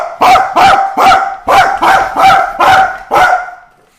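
IShowSpeed, a human voice imitating a dog, gives a loud run of eight sharp barks in a steady rhythm, each close and forceful, the last one trailing off.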